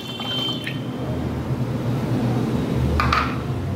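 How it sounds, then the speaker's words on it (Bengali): Yeast solution being poured into a bottle for a homemade aquarium CO2 system, a continuous close liquid pour with a soft gurgling trickle and a couple of brief clinks. "এই ইস্টের সলিউশনটা আমি এর মধ্যে ঢেলে দিলাম"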